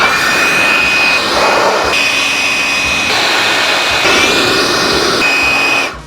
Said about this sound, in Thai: ไว้สำหรับเป่าไล่น้ำแบบไร้สายนะครับ